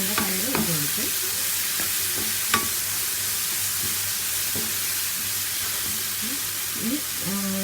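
Green gram being stirred in a pan with cardamom powder, a soft continuous sizzle and hiss broken by occasional scraping clinks of the spoon against the pan, with no talking.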